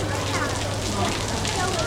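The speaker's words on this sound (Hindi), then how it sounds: "बारिश बहुत ही ज़्यादा तेज आ रही है।" Heavy rain pouring at the City Palace in Udaipur, a dense, steady hiss of downpour filling the surroundings with constant loud texture.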